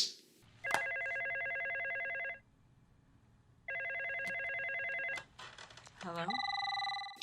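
In a movie scene, a telephone bell rings in two long, loud trilling bursts separated by a pause, followed by a brief electronic tone; rain-like background hiss sits underneath.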